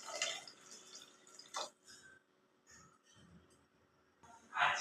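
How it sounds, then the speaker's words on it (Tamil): Water is splashed into a pan of spiced masala while a gourd dish cooks, giving a few quick pours and sizzling spatters with drips in between, close and fairly soft. "மசாலாலாம் வேகிறதுக்காக கொஞ்சமாக நம்ம இப்போ இதில் தண்ணி சேர்த்துக்கலாம்"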